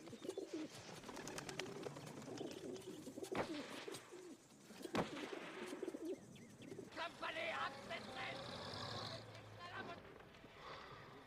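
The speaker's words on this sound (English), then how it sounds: "This is a good little English carrier pigeon." English carrier pigeon cooing amid a busy wartime film soundtrack, soft repeated coos mixed with ambient noise, occasional sharp knocks and background voices.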